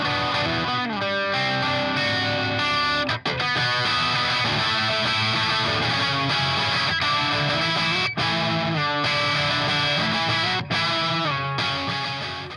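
A Gibson Les Paul electric guitar played through an Orange OR30 amp with PAF-style pickups, dense driven chords and riffs ringing out loud and sustained, with brief choked stops between phrases.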